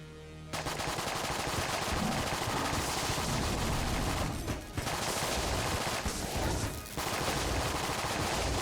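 Rapid bursts of gunfire from the video game Enter the Gungeon pour out almost nonstop, a dense, loud barrage of quick shots with brief dips, and no talking over it.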